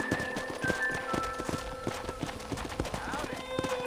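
Hooves clip-clop in a steady trotting rhythm from a horse in the Red Dead Redemption video game, fairly close, with a faint tonal game backdrop and no talk.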